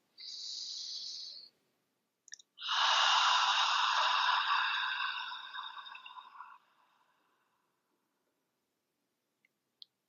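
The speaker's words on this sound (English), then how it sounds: "And then when you breathe out through the mouth," A person breathing out deeply through the mouth: a short airy breath, a pause, then one long loud exhale that trails off, close and alone in a quiet room.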